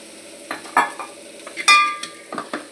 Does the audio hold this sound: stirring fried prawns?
yes